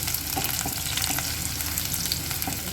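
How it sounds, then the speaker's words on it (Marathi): Garlic frying in hot oil, giving a steady, close sizzle with light crackles and the occasional scrape of stirring throughout. "लसूण थोडे पंधरा ते वीस सेकंद व्यवस्थित लालसर होईपर्यंत छान आपण तेलामध्ये परतून घेणार आहोत"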